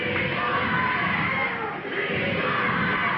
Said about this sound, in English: Well, the crowd's up now.